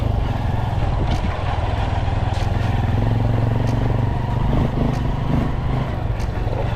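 A motorcycle engine runs at a steady, loud drone while the bike is ridden along a road toward a fishing spot, with rattling clatter and faint wind noise throughout.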